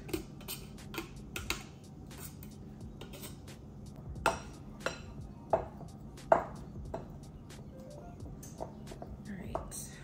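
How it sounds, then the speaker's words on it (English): Scattered scraping and clinking as butter is cut into biscuit dough in a bowl, irregular soft knocks with a few sharper taps, fairly quiet, with faint voice in the background. "we are cutting the butter in"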